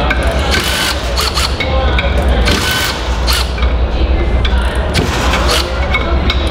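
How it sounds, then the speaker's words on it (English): A Milwaukee M12 FUEL cordless ratchet breaks free bolts torqued to 45 foot-pounds, giving a loud, continuous mechanical grinding and rasping whir with ratcheting texture that runs steadily throughout. "we're gonna go ahead and just break it free with our new M12 Fuel Ratchet"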